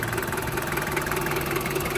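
A Daihatsu Taft GT 1994 diesel engine idles steadily up close, a continuous rough, knocking rumble with no other sounds.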